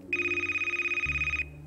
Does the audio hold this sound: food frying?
no